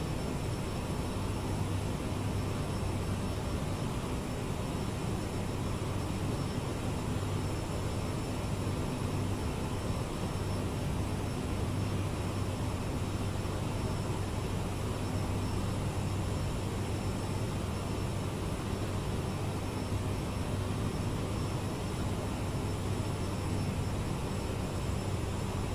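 The jet engines of a CRJ regional airliner in Microsoft Flight Simulator hold a constant, loud roar and high whine that continue unbroken for the whole stretch.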